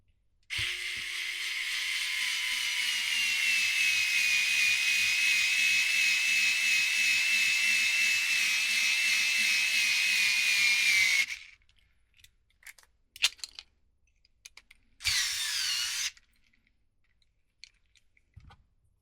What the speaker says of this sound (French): En l'occurrence, la vis, faut que je la redévisse